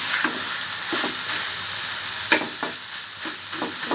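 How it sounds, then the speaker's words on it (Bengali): Flat beans frying in a pan on a home stove, a steady close sizzle with soft stirring scrapes and clicks at intervals, no talk. "আর এই পাশে যে সিম ভাজি বসিয়ে দিয়েছি।"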